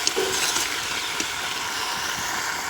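Brinjal fries in hot oil while being turned with a ladle, a dense loud sizzle running throughout with faint scraping stirs, close up and without speech.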